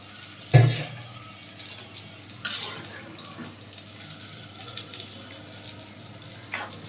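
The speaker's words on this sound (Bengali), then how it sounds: "আমি সামান্য পরিমাণে একটু পানি দিয়ে দিব সিদ্ধ হওয়ার জন্য" Water poured into a pan of koi fish and okra curry, a short sharp splash followed by quieter trickles and small knocks.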